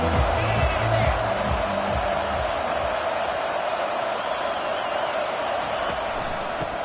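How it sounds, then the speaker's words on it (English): A stadium crowd in an NCAA college football video game roars in a steady, dense wall of cheering noise, loud and sustained throughout, without distinct voices standing out. "It's early, but this crowd is fired up. Listen to this noise here."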